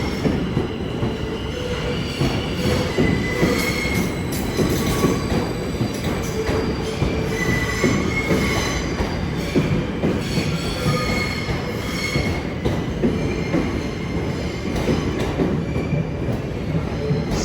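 An empty Class 725 train rolls into a London terminus platform from the carriage sidings, with loud continuous wheel rumble, clattering rail joints and squealing wheels, close and sustained throughout, no voices.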